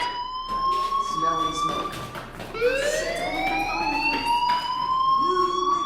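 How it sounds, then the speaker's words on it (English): A school fire alarm in the Life is Strange video game sounds as a steady rising electronic wail that sweeps upward and holds, repeating over several seconds, loud and continuous beneath a background voice. "Hey, do you hear that fire alarm?"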